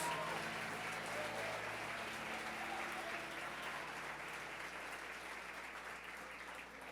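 A church congregation applauds steadily throughout, a dense, even wash of many hands clapping at moderate volume, with faint organ or keyboard tones sustained underneath.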